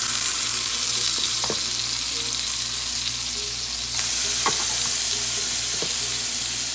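Chicken fries in a hot pan with a loud, continuous sizzle and occasional sharp clinks of a utensil, close by, with no voices.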